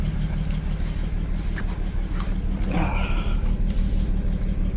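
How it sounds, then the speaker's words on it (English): A 2007 BMW 335xi engine idling rough on five cylinders, a steady low droning rumble with an uneven pulse, heard close and continuous with no talking. "Kind of probably running like a 5-cylinder BMW right now"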